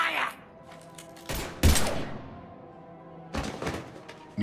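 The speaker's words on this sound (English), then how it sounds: "Now open fire!" Gunfire in the Mass Effect 3 video game, a few sharp loud bursts separated by quieter stretches, with a low voice faintly underneath.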